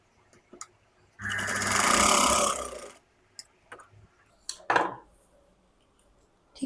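A sewing machine runs in one steady burst of about two seconds while stitching a katori blouse, close and fairly loud, set among scattered clicks and handling noises from the fabric and table.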